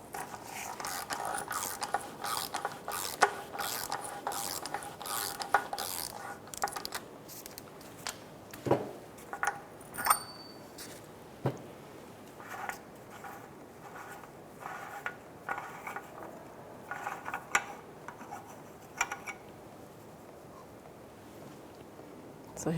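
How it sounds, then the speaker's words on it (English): Ratchet working on the aluminum oil filter housing of a Lexus RX350 during an oil change, giving faint, quick clicking bursts and metallic scrapes in irregular spurts throughout, close but quiet. "we'll take this big aluminum housing off and access the oil filter"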